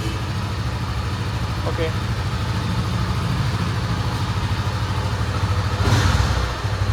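A Honda CB300F motorcycle idles with a steady low pulsing throb, close and continuous, while a person speaks briefly.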